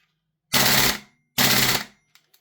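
A Daniel Defense PCC gas blowback airsoft rifle firing two loud, close bursts of rapid shots, each about half a second long, separated by a short pause, with faint clicks afterward.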